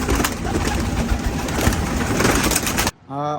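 Pigeons coo near a loft, with a burst of dense, noisy fluttering and rustling before a short, clear cooing call rises at the end.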